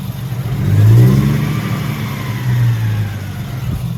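An IS200 car engine on a dyno revs up then settles, a close mid-pitched engine drone rising and falling twice before easing back to a steady idle, with no talk.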